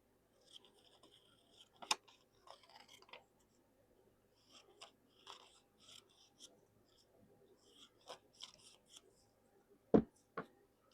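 Scissors snip out pieces cut from dark blue denim, giving short, quiet bursts of cutting with pauses between them and one sharp, loud click near the end.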